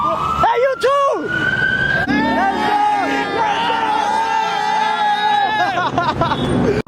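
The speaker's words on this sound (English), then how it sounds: "We got cops coming from all directions" Police sirens wail and yelp from several directions at a busy car meet, loud and overlapping, over crowd chatter and people talking nearby.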